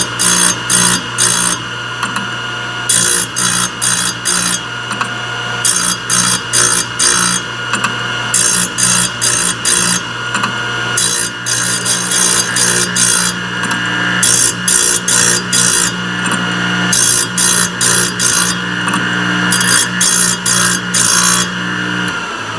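A Thorvie AV-40 sharpener grinds the carbide teeth of a triple chip saw blade, with steady machine hum beneath repeated bright rasping passes in short bursts, a few swipes per tooth, close and loud with no talking.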